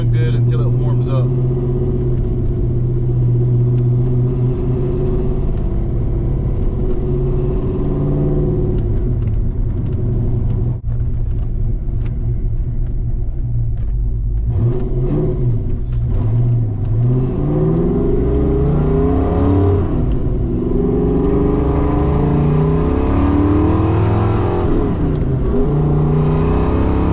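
Ford Fox-body car engine idling rough and uneven before warming up, a steady close rumble with shifting low tones and occasional revving swells, with people talking over it.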